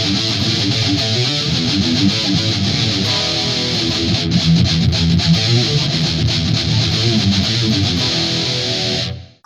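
High-gain electric guitar riff through a Line 6 Helix amp model, heavily distorted and lean in the bass, chugging palm-muted chords played loud and continuous for about nine seconds before cutting off abruptly.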